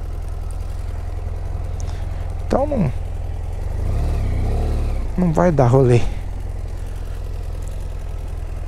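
A motorcycle idles nearby on a beach of dark volcanic sand, its low steady engine hum running throughout, and someone speaks over it twice.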